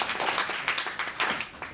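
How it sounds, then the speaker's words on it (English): A crowd applauds at a leadership conference, a brief dense patter of many hands clapping at moderate volume. "I think we should give a round of applause for all of our volunteers."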